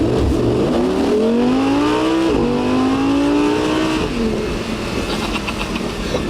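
An Audi R8 sports car engine revs hard, pitch climbing, dipping briefly, then rising again, loud and close throughout.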